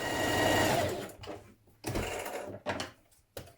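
A sewing machine bastes along a dress skirt pleat in several short bursts, the first run longest, then brief stop-start stitching close by with quiet pauses between.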